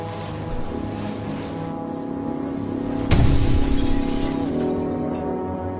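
A bomb blows up a small boat on the water, a sudden loud blast midway with a shattering crack and a rumbling tail over an ongoing wash of wind and waves.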